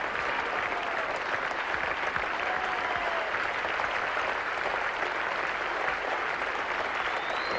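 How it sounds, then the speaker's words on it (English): Spectators and the Australian team applaud warmly at a 1977-78 Brisbane Test match between India and Australia, a steady, dense wash of clapping that holds evenly from start to finish, heard from a distance. "The Australian team and the spectators applauding this little man very warmly for a most courageous innings."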